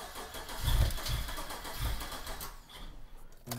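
A car engine with its battery on a charger cranks in a few heavy, uneven bursts as it struggles to start, loud and close, then fades to a low rumble before a brief sharp noise at the end.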